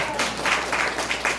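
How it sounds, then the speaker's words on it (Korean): A church congregation gives a short burst of applause, a brief patter of clapping of moderate loudness and fairly distant. "박수 한번 쳐보세요"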